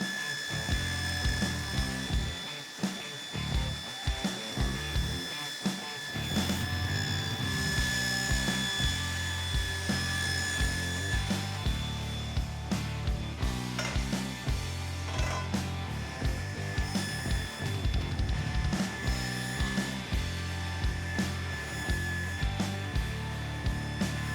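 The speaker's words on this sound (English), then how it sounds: "I'm gonna knock out all the slag on the inside with a carbide burr" A carbide burr grinding weld slag out of the inside of a steel joint during an off-road truck build, a dense continuous whirring and rattling grind that runs steadily throughout with brief dips, loud and close.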